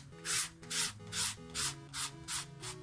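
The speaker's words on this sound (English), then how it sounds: "this sandpaper we had. It was kind of coarse, so I'm not using too much pressure on it." Coarse sandpaper rubbed by hand over a wooden pumpkin sign, seven even back-and-forth scratchy strokes in a steady rhythm, close and fairly quiet.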